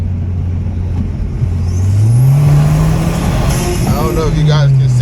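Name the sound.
Audi car engine running and revving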